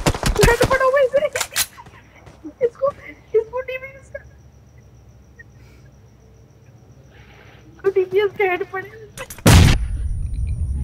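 A grenade blast near the end of an online shooter game, a single loud burst of noise, with excited voices talking over scattered in-game sounds beforehand.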